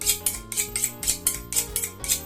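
A chef sharpens a kitchen knife without sharpening tools, producing fast, regular metallic scraping strokes that repeat about four times a second over a steady tonal ring, close and moderately loud, with no talking.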